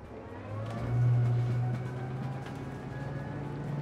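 Twin diesel engines of an Azimut S6 yacht setting off, a low steady drone that swells briefly and then holds, with water rush, heard from on board.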